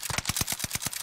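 Rapid gunfire in the video game Warzone: about nine sharp, evenly spaced shots in a quick automatic burst, loud and close.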